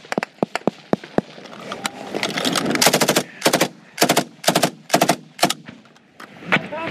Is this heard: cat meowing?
no